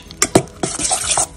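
Egg yolk being mixed into a sauce for veal blanquette, with a few quick clinks and scrapes of a utensil against a bowl followed by soft, wet stirring, close and without talk.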